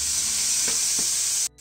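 Shallots sauté in a pan for a Chettinad-style turkey berry pachadi, giving a steady, bright sizzle with a couple of soft stirring scrapes. The sound cuts off abruptly near the end.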